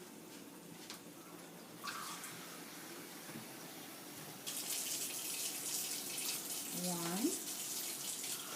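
Water runs from a tap into a cooking pot for arroz con gandules, a soft steady stream that grows louder partway through, while a voice briefly counts.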